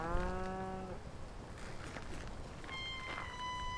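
Cattle mooing in the video game 1711 Ireland: A Witch's Fate, heard in two separate drawn-out moos, the first loud and near at the start and a higher one near the end, over steady ambient game atmosphere.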